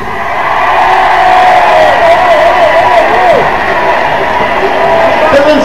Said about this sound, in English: You can applaud, I don't mind.